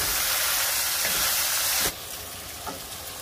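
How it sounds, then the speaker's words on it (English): Tomato sautéing in a pan with onion for Tex-Mex carne guisada beef stew, giving a steady, close, loud sizzling hiss that drops off abruptly partway through, leaving a softer frying sizzle with a faint clink. "Now for the tomato. And keep on going till everything is browned and sauteed."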